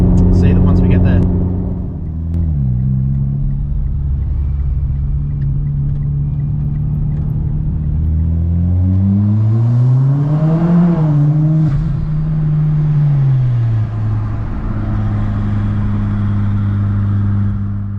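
Mitsubishi Lancer Evolution X driving and accelerating, its engine note rising and falling through gears with a loud, close, steady rumble and rising revs mid-clip, no talking over it.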